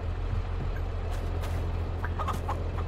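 Chickens clucking in the farm video game Farming Simulator 22, a soft run of short clucks over a constant low engine hum, no talk.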